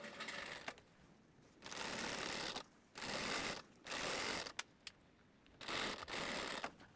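Sewing machine stitching stretched lastex elastic onto dress fabric, several bursts of rapid whirring stitching separated by short pauses, close and fairly loud, with small clicks between runs.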